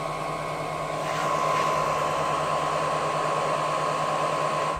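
ISDT D2 LiPo battery charger cooling fan running: a steady, loud whirring hiss with a constant whine and hum, unchanging throughout and heard alone without speech.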